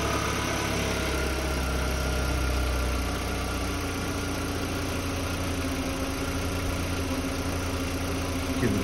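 A 2005 VW Beetle engine runs steadily at idle, a low continuous hum with faint mechanical ticking held at an even level throughout.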